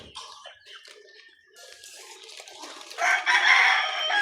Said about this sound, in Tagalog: Binigyan na naman tayo ng manok ni Boss Oscar.